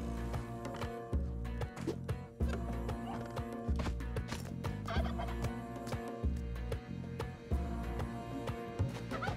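Repeated turkey gobbling in the video game Spelunky 2, a run of rattling bursts over nine seconds set against constant game music and effects, fairly loud and busy with no speech.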